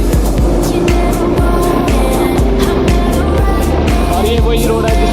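A Bajaj Pulsar motorcycle rides along a road, its engine a loud, close, steady drone with rhythmic low pulsing and a broad rush of wind noise throughout.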